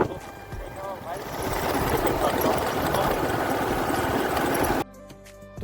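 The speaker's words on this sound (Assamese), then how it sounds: "এতিয়া মই গৈ আছোঁ বাইক চলাই।" A motorbike is ridden along the road toward Barpeta Road, its engine and rushing wind making a loud, steady roar that cuts off abruptly near the end, leaving quieter background noise.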